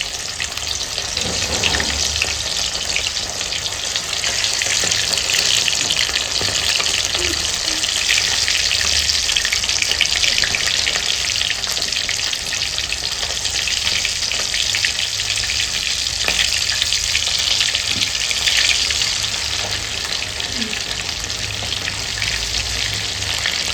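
Fish fries in hot oil, a loud, even, continuous sizzle and crackle close by, running unbroken with no talking.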